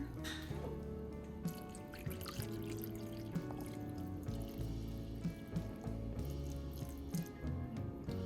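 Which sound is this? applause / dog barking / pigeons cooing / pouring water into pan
pouring water into pan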